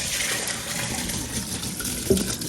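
Hot water draining as cooked bowtie pasta is strained in a kitchen, a steady close splashing gush with a small clatter partway through.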